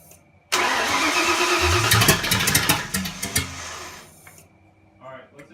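Ford Fox Body 302 V8 with a turbo fires up with a sudden loud roar, runs roughly with sharp pops and sputters for a few seconds, then dies away, leaving faint murmuring voices.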